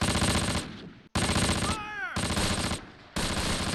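Heavy automatic gunfire in the World War II tactics game Close Combat, loud, dense bursts with a short gap and a whistling shell or mortar sweep in the middle, then firing resumes.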